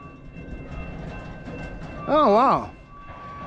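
A BNSF autorack freight train backs up with a low, continuous rolling rumble. A loud, wavering tonal blast swells briefly in the middle, and a person speaks briefly.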